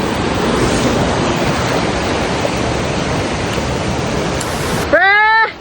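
New Casaroro Waterfalls in Valencia, Negros Oriental, pours with a loud, constant rushing roar close by, ending abruptly as a short burst of whistling or a high chirping cry cuts in at the very end.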